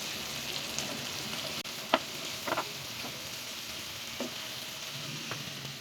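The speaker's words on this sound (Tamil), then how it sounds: "இப்போ பன்னீர் வந்து நல்லா டோஸ்ட் பண்ணியாச்சு." Paneer cubes toasting in a pan while being turned, a steady sizzle broken by several short scraping stir clicks and taps, with no one speaking.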